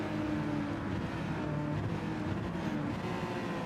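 Ferrari race car engine in Gran Turismo, a steady droning roar held throughout at moderate level without talk.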